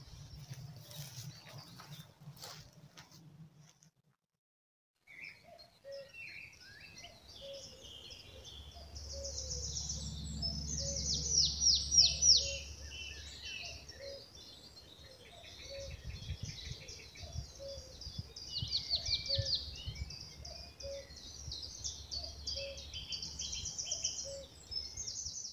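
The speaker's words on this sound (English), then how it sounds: "And a cuckoo distantly." Distant cuckoo calling in a secluded forest, its faint repeated two-note call recurring at a steady rhythm amid other birdsong and insect chirping, with a brief gap of near silence early on.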